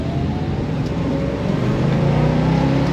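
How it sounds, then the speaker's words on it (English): Big 440 Six Pack V8 with three two-barrel carburetors in a 1970 Dodge Challenger R/T, a loud, close, continuous engine rumble that climbs gradually in revs and stays strong with no talking. "the sound of that big 440, the 3 deuces, 3 2-barrel carburetors, dumping all that fuel in with air and making the kaboom"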